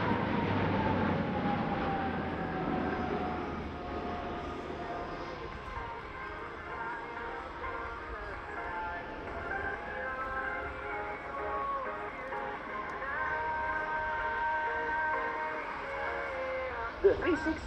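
A Leonardo C-27J Spartan military transport aircraft in a flying display at an air show: a steady, distant engine roar that slowly shifts in pitch, with an announcer talking over it.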